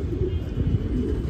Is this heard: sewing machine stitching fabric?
no